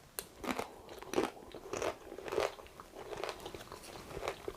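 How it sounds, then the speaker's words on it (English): Crunchy tortilla chips topped with corn chaat salsa are bitten and chewed close up, giving several sharp crisp crunches at irregular intervals, with a person briefly murmuring in appreciation. "I'm going to serve it up with some tortilla chips here"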